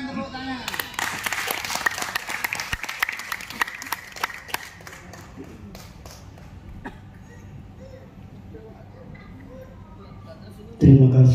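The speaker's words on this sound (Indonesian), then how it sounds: "Tepuk tangan, tepuk tangan." An audience claps at a market revitalization briefing for Pasar Keputran Selatan, a busy patter of hands that gradually thins over several seconds, with voices underneath and an announcer speaking near the end.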